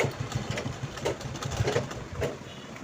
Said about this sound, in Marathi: स्टिचिंग करून घेऊ.